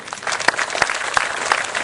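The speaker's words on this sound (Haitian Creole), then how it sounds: "nous vous demandons d'applaudir encore M. Luno Jourdain" Audience clapping in tribute to Me Luneau Jourdain at an honour and merit ceremony, a steady dense applause with sharper individual claps standing out, sustained and fairly loud throughout.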